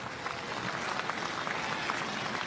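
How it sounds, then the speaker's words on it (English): Warm crowd applause at a cricket one-day international in Rotterdam marks a half-century. The clapping is steady and moderately distant, with a dense patter holding through the whole moment. "He'll get warm applause here in Rotterdam"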